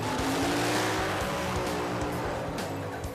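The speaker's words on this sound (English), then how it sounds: "That was a brilliant burn out of David's." Car burnout with dense, loud engine roar and a sustained high tire squeal, steady and close throughout with low rhythmic engine pulses underneath.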